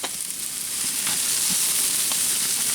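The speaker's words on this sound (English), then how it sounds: "but I'm grilling these" Burgers sizzling on a gas grill, a steady loud hiss of frying fat that crackles now and then, close up and alone without any talk.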